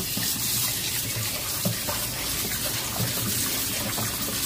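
Running tap water splashing steadily in a sink as fish is rinsed clean by hand, a constant close gushing with occasional small knocks, no talk.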